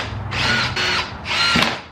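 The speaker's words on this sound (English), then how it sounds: "So let's go ahead and start drilling." A power drill with a 13/64 drill bit bores holes for a 2005-2006 Acura RSX rear end conversion, running in loud whining bursts that rise and pause twice.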